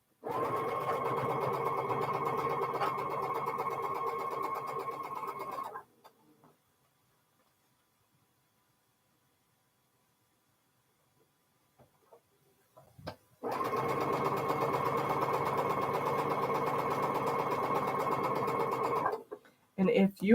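A sewing machine chain-pieces quilt block sections in steady, fast runs of stitching, stopping for a long silent pause and then starting again, loud and close with no voices over it.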